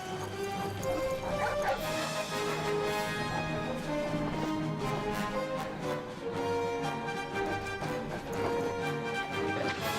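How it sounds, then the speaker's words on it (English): Several dogs bark and yip in quick, overlapping bursts over a musical backing in a BBC One television ident, lively and continuous throughout. "Such wonderful creatures, dogs, aren't they?"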